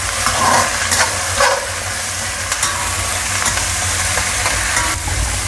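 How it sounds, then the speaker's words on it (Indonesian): Fried okra tossed with oyster sauce, salt and sliced chili in a hot pan, giving a loud, continuous sizzle close by with brisk scraping strokes of the spatula throughout. "Lalu ini kita aduk sampai semuanya tercampur merata."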